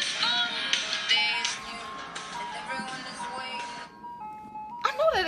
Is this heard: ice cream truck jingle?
yes